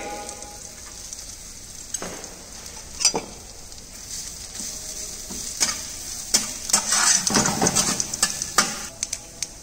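Curry leaves, sliced onions, chopped ginger and garlic with cumin seeds and chilies frying in a pan, a close, steady sizzle broken by scraping stirs and clatters against the pan that grow busier toward the end.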